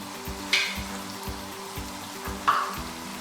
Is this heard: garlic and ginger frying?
yes